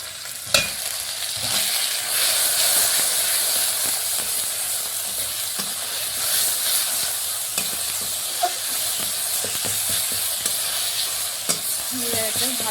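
Ingredients frying with salt and turmeric in a pan, a continuous loud sizzle with scattered scraping and tapping of a spatula stirring against the metal throughout.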